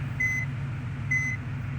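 Reversing beep of a bus in a bus simulator video game: two short, clear electronic tones about a second apart over a steady low engine hum.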